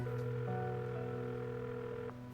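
A call going unanswered: a steady telephone tone hums on without pause, close and fairly loud, with no voice answering and a small shift in the tone near the end.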